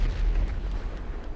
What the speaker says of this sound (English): There's the explosion to tell them I've just taken it.